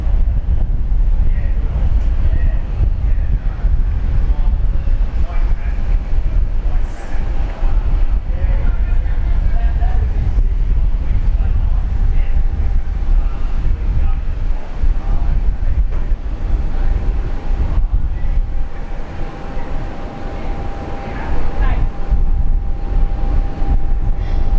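A China Southern airliner departing Brisbane for Guangzhou, its engines a loud continuous low rumble that dips briefly toward the end, with faint radio chatter underneath.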